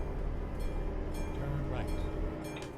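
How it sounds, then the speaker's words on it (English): Trains rumble past beside the track in Euro Truck Simulator 2, a loud, steady low rolling clatter that fills the whole stretch with no speech. "that's why we're hearing the trains."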